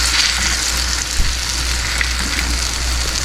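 Eggplant croquettes frying in hot oil give a steady, dense sizzle that holds loud and even throughout with no voices.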